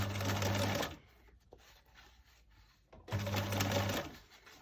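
A sewing machine stitches ruffles for a handmade journal, two close, steady bursts of rapid mechanical whirring separated by a quieter pause with faint handling clicks.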